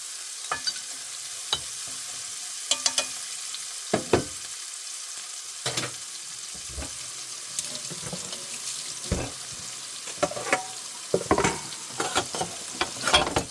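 Garlic frying in a mix of sunflower and olive oil, a steady close sizzle with scattered sharp clatters and knocks of utensils and pans over it.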